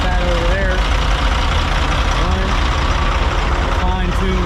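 A custom flat-nose Peterbilt semi truck's engine idles with a loud, steady, close rumble that never lets up, while people talk over it.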